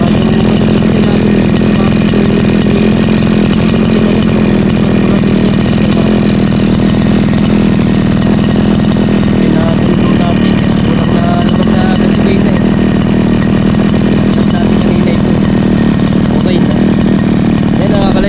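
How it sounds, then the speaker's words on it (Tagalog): A grass cutter's small two-stroke engine, unused for a long time, runs steadily and loud at close range for the whole stretch, with a constant droning hum and a voice talking over it. "magsisimula na ulit mag-grass cutter"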